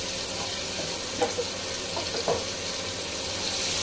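Onions frying in a pan give a steady sizzle for the whole stretch, with a few soft clinks of stirring and no talking.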